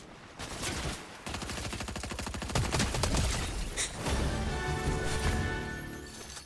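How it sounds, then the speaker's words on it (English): Dense gunfire in the Fortnite video game, sustained rapid automatic bursts and overlapping shots filling the whole stretch at steady loud level, with a few sharper cracks standing out. "now you want to shoot back"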